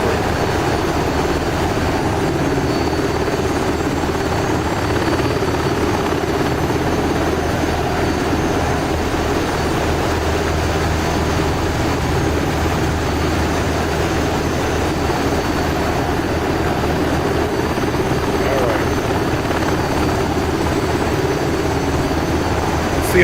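SH-60 Seahawk helicopter rotor and turbine engine in the DCS World flight sim, a steady loud broadband drone and rotor thrum running unbroken near a carrier landing, with no talk over it.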